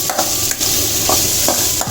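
Onions and cubed potatoes sauté in a hot pan with a loud, continuous sizzle, broken by occasional scrapes and stirs of a spoon, close up and with no voices.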